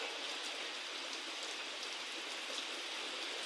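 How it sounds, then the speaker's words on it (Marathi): Heavy rain pours down steadily, a dense, even hiss of drops falling close by without a break and no voices. "तर मस्त पाऊस झाला इथं दिसतोय बघा"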